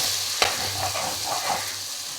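A spoon stirs chilli powder into mutton gongura curry in a pan over a soft sizzle, with one sharp scrape of utensil against metal and gentle scraping strokes close by.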